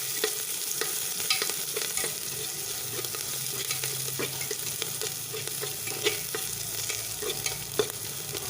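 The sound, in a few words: onions and green chillies being stirred while frying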